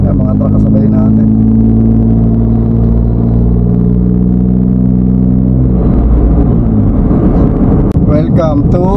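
Trucks travel alongside on a provincial road in the Philippines, their engines giving a heavy, loud rumble that drones steadily and then turns rougher, while someone talks over it.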